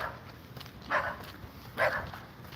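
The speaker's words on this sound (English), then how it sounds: "I have to deal with this dog yapping." A dog yaps in two short, sharp bursts about a second apart, moderately close, over steady outdoor background noise at a convenience store lot.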